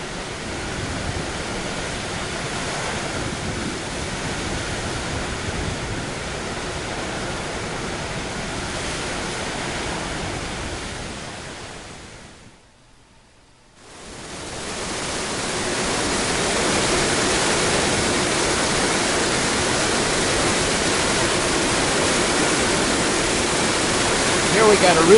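Heavy water roaring out of the stilling basin tunnel at Oahe Dam on the Missouri River during the July 2011 flooding, a loud, steady broadband rush that drops out briefly midway and then returns at full force.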